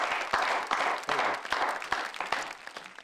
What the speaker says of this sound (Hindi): जरा तालियां बजाएं।